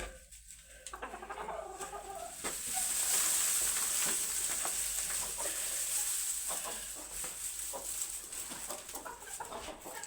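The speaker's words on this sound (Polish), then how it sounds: "Kogut!" A rooster crows amid busy farmyard noise, with scattered clucking, rustling and a steady high hiss running throughout.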